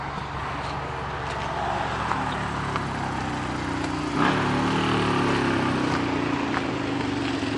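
A 2015 Mazda3 s idles with its slightly rusted exhaust, a steady engine hum with a small swell in level partway through, heard up close and alone.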